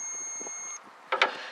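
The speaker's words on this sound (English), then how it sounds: "if you set this on continuity, you can hear this beep" A multimeter set to continuity beeps while testing a light on a 1969 Lincoln Mark III: one steady, high electronic tone lasting under a second, then it cuts off, leaving faint handling noises and rustles.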